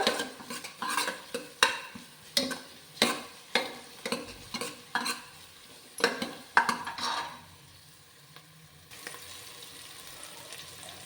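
Ginger garlic paste frying in a pan while being stirred, with a steady sizzle under a series of sharp, rhythmic scraping and clinking strokes of a utensil against the pan, then quieter sizzling alone at the end.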